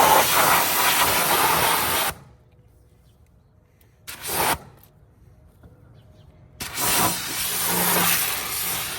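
Water spray rinsing a car wheel and tire comes in close hissing bursts: a long spray, a short blast near the middle, then another sustained spray after a quiet gap.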